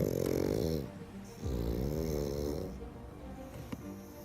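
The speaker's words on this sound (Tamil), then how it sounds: "அதுங்க மூச்சு விடும் போது அப்படின்னு ஒரு ஸ்னார்டிங் சவுண்டோடய" Pug dog snorting and snoring as it breathes, its airway narrowed, a close, loud, ragged rasp in long drawn breaths with short pauses between, no talk over it.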